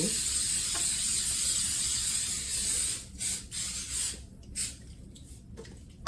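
Steady broadband hiss of an olive oil cooking spray runs for about three seconds, then breaks into a few short bursts of spraying with quiet gaps between.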